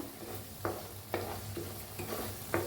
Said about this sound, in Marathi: आता हलवून घेऊया